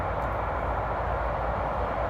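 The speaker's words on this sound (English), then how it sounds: "I'm sorry for the motorway noise" Steady motorway traffic noise beside a tent pitch next to a motorway, a continuous broadband roar with no distinct passes.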